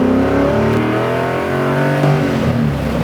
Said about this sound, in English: that high revving engine is like, it's intoxicating, dude